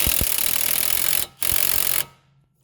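An impact gun with a socket hammers at a stabilizer link nut on a 2013 Dodge Grand Caravan in two loud, rattling bursts close by, separated by a brief pause, then cuts off.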